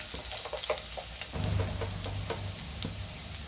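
Potatoes frying in a pan with a little turmeric for a Bengali ridge gourd and poppy seed dish, giving a steady close sizzle with scattered crackles and a low hum underneath, and no talk.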